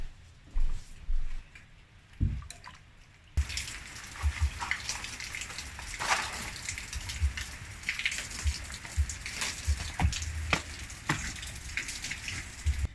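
Kawakawa tea with ginger boils in a pot on the stove, a busy patter of bubbling and popping that starts faintly and then turns steady and close.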